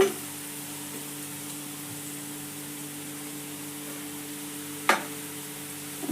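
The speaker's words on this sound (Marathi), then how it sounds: "कांदा मस्त गुलाबी रंग येईपर्यंत परतून घावा" Steady, even frying sizzle of onion frying in a pan with ginger, chopped chilli and curry leaves, continuous and fairly quiet, with a brief scrape or stir near the end.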